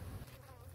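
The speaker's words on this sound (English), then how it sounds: "Look at this box of bees." Honey bees buzzing around an open hive box, a faint, steady hum from many bees close by, with no talking.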